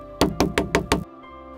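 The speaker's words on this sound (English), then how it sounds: "Then I heard a knock on the door." Five quick, evenly spaced knocks on a door, sharp and close, followed by a faint hum.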